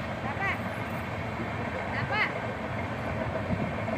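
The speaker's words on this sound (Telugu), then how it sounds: "ట్రైన్ వెళ్తుంది చూడండి." A train rolls past on a track right beside a roadside shop, a steady close rumble of wheels and carriages throughout, with faint voices in the background.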